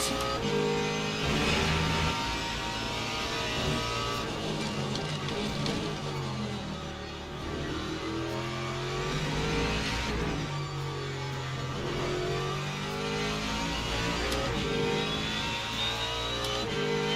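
GT3 race cars circle Imola in the Le Mans Ultimate racing game. Their engines give a faint, continuous drone that rises and falls with revs, with no one speaking.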